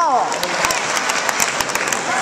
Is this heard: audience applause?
yes